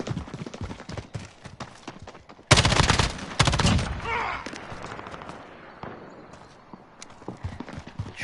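Semi-automatic rifle fire in Call of Duty Modern Warfare, a volley of sharp loud shots with a dense burst in the middle, over a busy game soundscape with someone talking faintly beneath.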